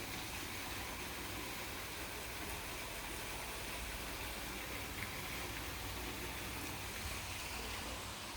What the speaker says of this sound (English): There's a gorgeous kind of waterfall fountain.